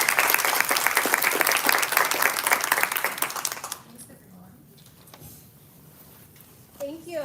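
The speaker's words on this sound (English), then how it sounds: "let's do one more round of applause for" Loud, dense applause from a panel discussion audience fills the opening few seconds, then drops off, leaving a quieter room with scattered sounds and brief talk.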